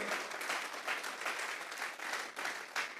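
A church congregation gives sustained clapping as an offering of applause, a steady, fairly distant wash of many hands with slight swells, lasting throughout.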